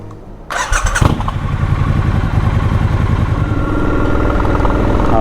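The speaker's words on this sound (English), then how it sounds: "See how the bike does above 50 miles per hour." A motorcycle riding above 50 miles per hour roars close and loud, a sharp rev surge at the start settling into a steady, sustained engine drone with rushing wind noise.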